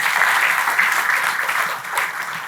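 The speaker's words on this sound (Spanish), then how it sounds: "Dele un aplauso al Señor" Loud applause fills a church as the congregation claps for the Lord, a thick sustained roar of hands that eases slightly toward the end.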